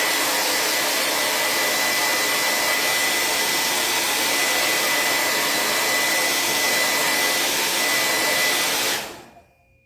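A hair dryer blows steadily on a DIY patriotic craft piece for a fireplace mantel, a loud continuous whooshing roar with a faint tonal whine that cuts off abruptly near the end.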